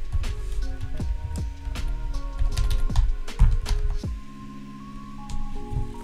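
Fingers tap out an email address on a computer keyboard in a steady run of close, crisp keystrokes, with a low tonal background playing underneath.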